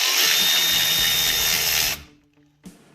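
A power driver spins Torx bolts tight on a Trail Armor skid plate of a Polaris Sportsman/Scrambler 850/1000 ATV, whirring loudly for about two seconds before cutting off, followed by quiet handling noises and a brief knock.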